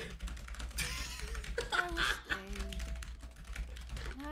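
Rapid clicking of computer keyboard keys close by, continuous typing under faint background voices.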